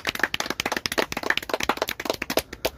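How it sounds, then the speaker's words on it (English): Applause for the winner at a carp lake fishing social, a small group clapping irregularly and close by for a few seconds with no talk over it. "Round of applause."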